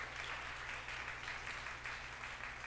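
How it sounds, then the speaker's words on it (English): A congregation gives a round of applause in a church setting, an even, moderately loud patter of many hands clapping over a faint low hum. "let's give her a round of applause"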